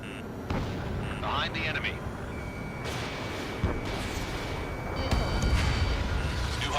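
Aircraft weapons and heavy impacts in Ace Combat 7: Skies Unknown, booming blasts and rumbling fire under a steady engine drone, with a radio voice speaking over the action.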